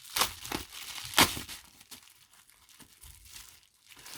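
A mailed card envelope, glued shut, is torn open by hand: close crinkling and crumpling paper, with a couple of sharp ripping bursts followed by softer rustles.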